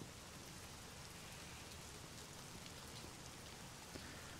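Steady rain in the video game The Medium, a faint, even hiss of falling drops with no breaks and no voices.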